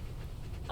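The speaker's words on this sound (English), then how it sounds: "I'm pretty sure that's a CGI dog, and that looks so good" A CGI dog, Krypto, from a Superman film, panting in quick, rhythmic breaths close up for a brief moment, with no voices over it.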